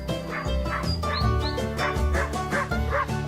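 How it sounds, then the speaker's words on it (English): A dog barks several times in quick succession over a musical backing, the sharp, loud woofs coming close together on a farm-animals children's track. "It's a dog."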